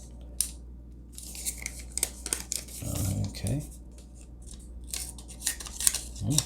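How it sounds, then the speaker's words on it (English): Scissors from a 19-in-1 multitool snipping a small piece of paper, a few short crisp cuts close by, with a steady background hum. "show how well these scissors work"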